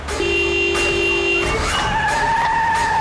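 A car being driven recklessly in a crime drama scene, its tires screeching and skidding in loud, sustained squeals over a steady engine roar, with no speech.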